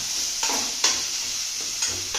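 Egg curry is stirred in a pan, a spoon scraping the bottom in regular strokes over a steady simmering sizzle, close and clear with no talking.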